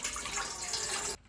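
Water poured into a pot for making pulao, a brief steady splashing gush of about a second that stops suddenly.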